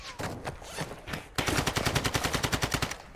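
Rapid automatic gunfire in Call of Duty DMZ, with a few scattered shots followed by a sustained close, loud burst of evenly spaced rounds.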